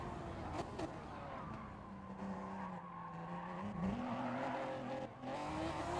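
A race car spinning out in a racing video game: sustained tire skidding and squeal over a droning engine note that rises and falls, steady and moderately loud throughout with no break.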